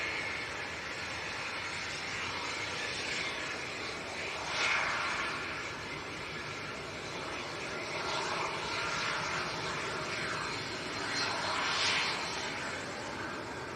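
A fixed-wing aircraft taxiing at Leeds Bradford Airport during Storm Amy, its engine a steady distant roar with gusty swells, heard outdoors with no talk.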